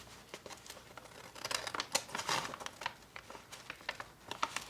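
Scissors make quiet, close snips through the overhang of a paper take-out bag being made into a gift bag, mixed with soft crinkling of the bag and irregular small clicks.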